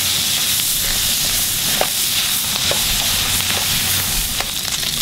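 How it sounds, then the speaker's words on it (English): Pork stir-frying with garlic and lemongrass in a pan for a Hmong ginger stir fry, a loud continuous sizzle with scattered crackles and stirring clicks, close up and without voices. "just to brown up the garlic and lemongrass. Okay, go ahead and mix everything."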